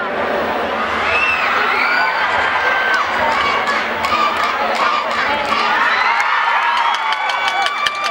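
Football match crowd roaring, cheering and screaming continuously, a dense loud wall of shouts and whoops with piercing high cries rising above it throughout.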